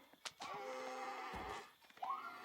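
A sheep gives a drawn-out bleat in the strategy game Call to Arms, followed by a shorter rising bleat, fairly close over quiet background.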